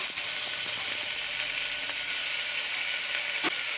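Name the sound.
tomato sautéing in a pan for banana flower biryani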